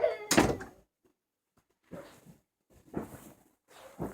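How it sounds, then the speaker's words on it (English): A door is shut with a single solid thud near the start, followed by quieter intermittent voices. "Please shut my door."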